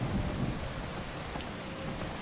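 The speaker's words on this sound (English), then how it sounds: "The rain out here in Falkreath." Steady rain pours in the Falkreath region of the video game Skyrim, a dense continuous hiss with low rumbling beneath, heard alone at a moderate, even level.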